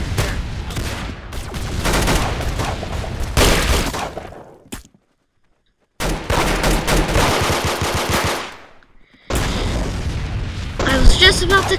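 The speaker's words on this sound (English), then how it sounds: "I got the firecracker gun. Sounds like a fire." Loud bursts of rapid popping gunfire in a game, crackling like firecrackers, broken by short silences between volleys.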